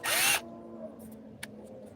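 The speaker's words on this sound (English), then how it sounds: "Let's go ahead and start drilling." A brief burst of a power drill whirring up close, then stopping, followed by a few faint clicks and light handling noises.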